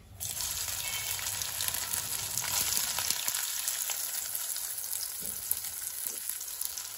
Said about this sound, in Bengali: এবারে কড়া বসিয়ে আমি ভেজে নিচ্ছি সয়াবিন গুলোকে